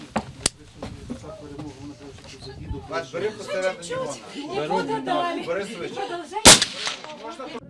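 Gunshots from an American-made DB-15 carbine fired by a cadet on a civilian shooting course, sharp loud cracks standing out against steady talk and background chatter, with one especially strong report near the end.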